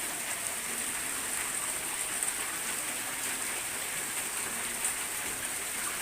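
Steady heavy rain pours down in a flood-prone area with a small drainage channel, a dense, constant hiss of water on hard surfaces with no pauses or speech.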